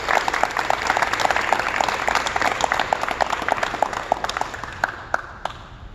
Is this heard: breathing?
no